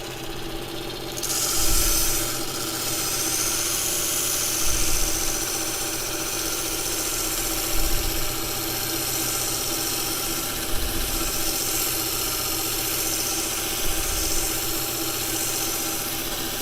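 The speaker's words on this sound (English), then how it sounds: "This belt sander was only 25 quid, I think" Cheap electric belt sander running on wood for an O gauge model railway point, a steady loud mechanical whine and hum with a few periodic swells, continuous and close throughout.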